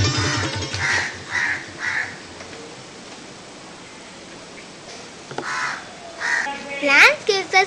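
Crows caw repeatedly in short harsh calls outdoors, with a stretch of quieter background hiss between, and a voice briefly at the end.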